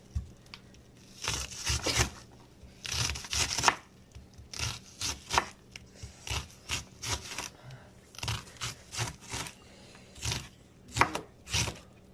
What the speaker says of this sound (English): Everybody has their own way of cutting onions in cubes.